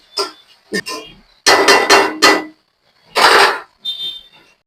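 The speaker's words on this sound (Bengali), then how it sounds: "ভাজিটা একটু নেড়ে চেড়ে দিই" A vegetable bhaji is stirred in a pan, making a string of sharp, loud clanks and scrapes in uneven bursts with short silences between them.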